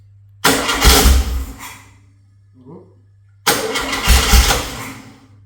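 A Volkswagen Beetle engine, primed with fuel squirted into the carburettor, cranks and catches twice, each loud burst running a couple of seconds and fading out, with a brief faint noise in the gap between.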